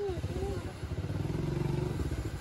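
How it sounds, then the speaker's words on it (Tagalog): Motorcycle engine idling nearby with a low steady harmonic drone and slight revving, while voices talk over it on a roadside stop. "Kasi may motor dito"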